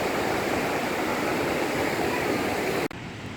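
Waves wash onto a quiet beach in Australia as a steady broadband hiss with no breaks. It cuts off sharply near the end.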